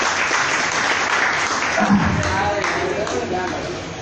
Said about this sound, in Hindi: एक बार तालियां मार दो